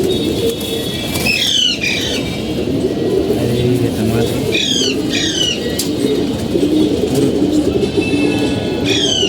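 Low coos of game pigeons murmur under a busy outdoor background, with a few sharp bird chirps and wing flutters scattered throughout.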